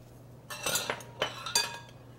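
Cut eggplant gets tossed with turmeric and salt: a few clinking, scraping strokes of a utensil against a bowl, close and moderately loud, in two or three bursts.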